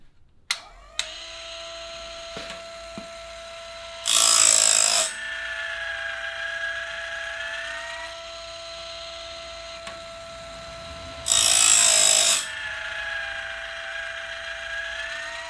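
A Woodland Mills bandsaw blade sharpener runs with a steady motor whine, broken twice by roughly one-second bursts of harsh grinding as the wheel bites into the blade.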